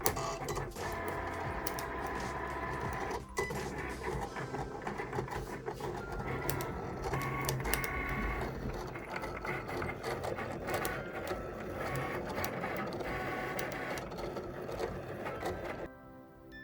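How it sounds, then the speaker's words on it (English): A Cricut cutting machine slicing glitter vinyl for a DIY shirt: a steady mechanical whir and buzz with shifting motor tones and small clicks runs for several seconds close by, then stops abruptly at the end. "So now I'm going to go over to my Cricut machine and hit cut. Okay, now it's going to start cutting our vinyl."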